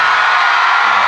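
A concert crowd at an underground Korean rap show cheers and shouts, a dense, loud, continuous roar of many voices with no single sound standing out.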